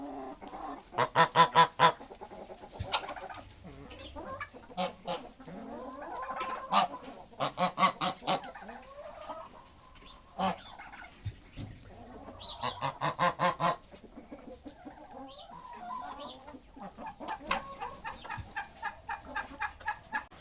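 Loud, repeated goose honks in rhythmic bursts in a farmyard, with clucking fowl mixed in nearby throughout.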